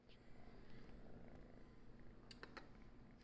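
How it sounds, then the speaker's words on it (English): A pet cat purrs close and quiet, a soft rumbling rhythmic purr running steadily with a few faint clicks and rustles near the end. "He just purrs constantly"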